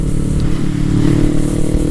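A Kawasaki Ninja motorcycle engine runs loud and close, a steady throaty rumble with a slight rise as it revs, heard alone without talk.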